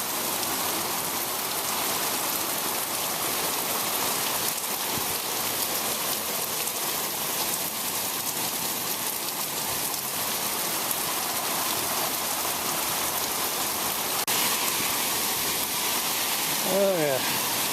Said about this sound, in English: Good downpour now.